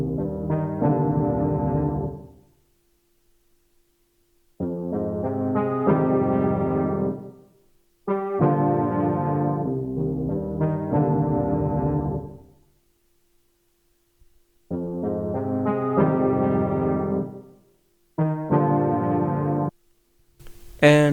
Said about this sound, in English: The name of the preset is Tight Observer